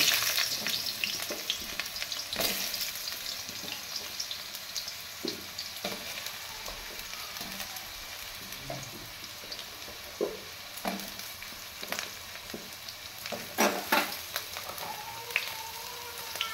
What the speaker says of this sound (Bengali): কড়াইয়ের তেল গরম হয়ে গেছে, আমি আলুগুলো দিয়ে দিলাম। আলুগুলো এখন আমি ভেজে নেব।